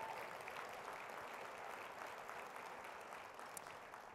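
An audience applauds a recently named Sacramento Businessman of the Year at a downtown investment event, a steady, faint wash of many hands clapping from start to finish with no speech over it.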